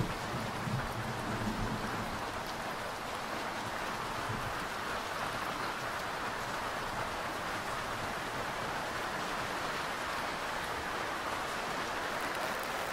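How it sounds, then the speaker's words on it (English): Heavy storm rain from the sailing game Sailwind pours steadily in a dense, unbroken hiss, with a low rumble underneath, loud and continuous with no voices. "Look at this driving storm here."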